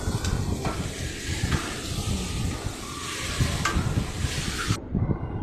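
Fried pointed gourd and potato pieces sautéing with spices in hot oil, a constant hissing sizzle that holds steady throughout and cuts off abruptly just before the end.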